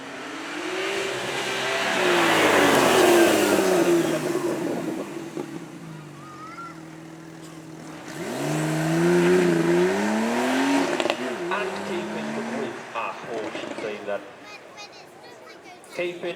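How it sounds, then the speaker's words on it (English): A 3-litre flat-six sports car engine with about 380 horsepower revs hard at a supercar show, rising and falling in two strong bursts with engine harmonics sweeping up and down, nearby and loud, while people talk in the background. "also with 6 cylinders, but this time in a flat formation. 3 litres with around 380 horsepower."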